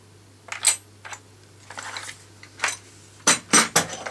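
Metal wrenches clink and rattle inside a sticker-covered tool case, with scattered light metallic chinks and a few brighter clusters of clanking, close by and fairly quiet, no talking.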